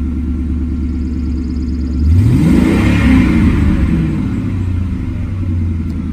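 A Ford Mustang GT engine idles with a deep, steady rumble close by, then revs sharply once, the pitch climbing and falling before it settles back into idle, with no talking.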